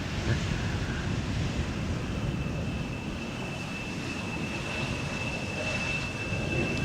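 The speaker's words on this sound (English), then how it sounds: "Embraer 175 having arrived from Milan." A KLM Embraer 175 jet arriving from Milan at Amsterdam Schiphol gives a steady, moderately loud engine roar with a thin high whine and some wind noise. The sound holds unchanged throughout and no one speaks.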